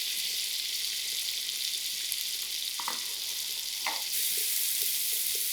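Sliced red onions sizzle steadily in a quarter cup of melted butter in a pan, a continuous frying hiss with a couple of brief stirring scrapes near the middle.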